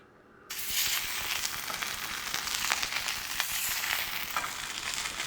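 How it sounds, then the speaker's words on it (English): Olive oil hitting a very hot pan bursts into a loud, steady sizzle after a brief quiet moment, crackling continuously with small pops throughout. "And now my pan's about as hot as I want it to be. Get some olive oil in there."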